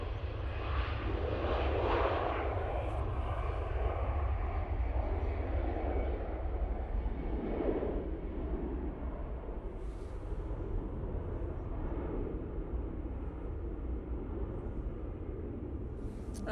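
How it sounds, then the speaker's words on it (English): A Jet2 Airbus A321ceo at Manchester Airport produces a continuous engine roar, loud with deep low rumble throughout, with no one speaking. "A321 CEO for Jet2 here."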